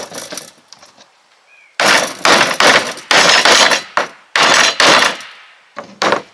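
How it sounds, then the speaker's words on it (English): Loud, close hammer blows drive nails into the wood of a simple sawhorse, coming in clusters of sharp strikes with brief pauses between them and no talking. "I'm going to go ahead and hammer these nails down."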